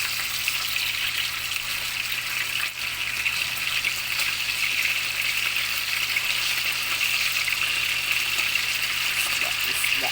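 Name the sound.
frying salmon belly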